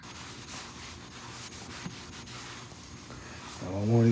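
Sandpaper rubbed by hand over a car headlight lens, a steady close scratchy rasp throughout, growing louder near the end.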